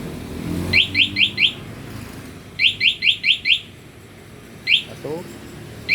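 A plug-in alarm on a Yamaha Fego scooter chirps in quick rising bursts of four or five beeps, then a single beep. It sounds close and loud, and someone speaks briefly between the bursts.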